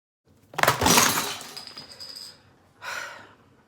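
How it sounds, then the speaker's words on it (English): A makeup palette slips from someone's hands and hits the floor with a loud breaking crash and scattering clatter, then a second smaller clatter follows as pieces settle; no one speaks. "my entire palette fell out of my hands in the last 10 seconds"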